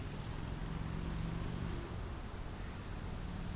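A steady, dense buzz of many bees around a hive fills the air continuously, with a faint high whine running over the hum.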